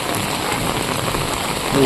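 Heavy rain falls during a thunderstorm in Vagaikulam village, Tirunelveli district, as a steady, close hiss of drops on surfaces that swells slightly at the end.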